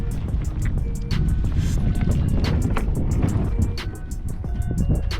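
Strong wind gusts on a lake during a bass fishing outing, heard as a heavy, continuous roar buffeting the microphone and filling the whole stretch, with no talking over it.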